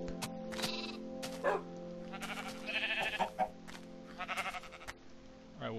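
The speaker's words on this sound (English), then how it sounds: "it's this black sheep." Sheep bleating in the video game Minecraft, several short wavering bleats over a steady hum of game background sound, with no talk.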